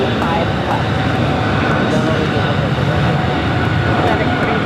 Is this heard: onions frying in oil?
no